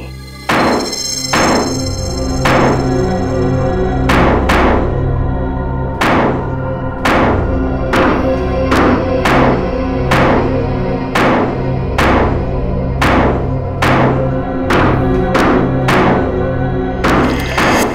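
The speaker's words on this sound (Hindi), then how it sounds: "खोदो इस पानी की टांकी को" Digging into a water tank produces a steady series of loud, sharp thuds and knocks, struck roughly every second in an uneven rhythm, close by and dominating the scene.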